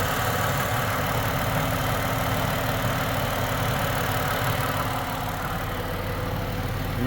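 A 2011 Ford Escape engine idles with a steady, moderately loud hum and faint mechanical rattle running evenly throughout.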